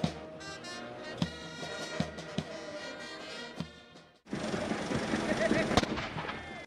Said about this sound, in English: Dr. Chakwera inspected a guard of honor, which was preceded with a 21-gun salute.